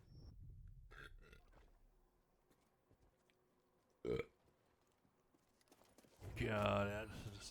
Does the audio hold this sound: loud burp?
yes